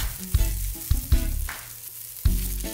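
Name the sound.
onions and whole garlic cloves charring in a pan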